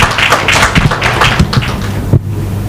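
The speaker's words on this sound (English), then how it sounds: "Round of applause" Applause from an audience at an Indonesia India business forum on microfinance fintech, a steady wash of hand claps with a few sharper taps and thuds, moderately loud and continuing without speech.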